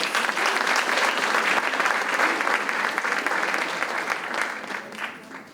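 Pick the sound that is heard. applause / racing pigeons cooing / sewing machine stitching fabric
applause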